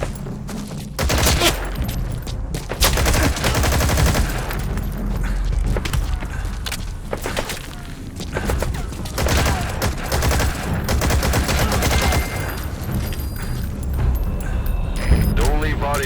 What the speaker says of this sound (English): Bear in mind your weapon will be loud from now on.